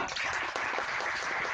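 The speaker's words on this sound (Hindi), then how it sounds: "कृपा शंकर जी, उनके लिए जोरदार तालियां" An audience at an academic session on Indian languages gives a short round of applause, steady dense clapping heard at moderate volume throughout.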